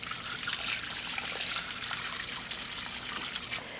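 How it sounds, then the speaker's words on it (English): Steady trickling and pouring of water while house plants are watered thoroughly indoors, a continuous close stream splashing into soil with no voices. "I'm gonna just water everything really, really well"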